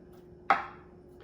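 A knife chopping washed, trimmed scallions on a board: one crisp, close strike that fades quickly, then near quiet.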